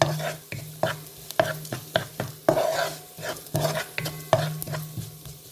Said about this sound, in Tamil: இது வந்து நல்லா வதங்கி வரணும் நல்லா பொன்னிறமாக வரணும்